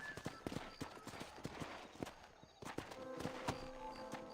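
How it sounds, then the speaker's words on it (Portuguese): Horse hooves clip-clop at a steady walking pace in a Red Dead-style open-world video game, a regular series of sharp, close knocks with soft music or ambience underneath. "Agora é meu esse cavalo"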